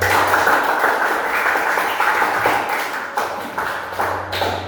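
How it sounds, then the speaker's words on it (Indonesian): A group claps steadily and loudly, a dense patter of hands that thins slightly toward the end. "terima kasih tepuk tangan"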